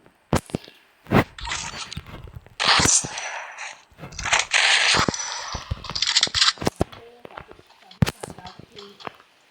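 Repeated gunfire from a shooting video game, several loud bursts and single shots spread across the stretch, with a voice talking over the game sounds.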